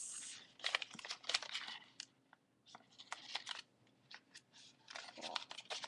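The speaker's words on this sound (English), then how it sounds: "So you open it up, fold this." Origami paper being folded and creased by hand for a cherry blossom model, heard as close, dry crinkling and crisp snapping bursts that come in irregular clusters with short quiet gaps.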